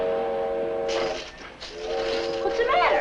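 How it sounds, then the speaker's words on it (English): An evening freight train rumbles past, and its horn sounds in long sustained blasts before and after a hissing stretch, with a voice briefly heard near the end. "It's the evening freight train, that's all."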